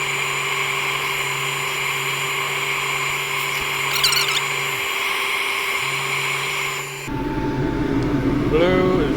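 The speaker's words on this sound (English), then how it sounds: "So that gets sanded." A turned wooden tray, about 1/8 inch thick, spins on a wood lathe while being sanded: a steady, close motor whine with a low hum, shifting to a rougher, busier texture near the end.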